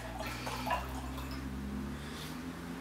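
Red wine, a 2011 Chronic Cellars Purple Paradise, poured into a glass in a hefty pour, a short gurgling splash that fades into a low hum, with no one speaking.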